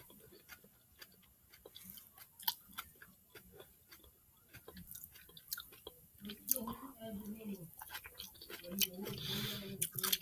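Crunchy spaghetti squash with mushrooms being chewed close to the microphone, with irregular crisp bites and moist clicks throughout that grow denser and louder toward the end; no talking.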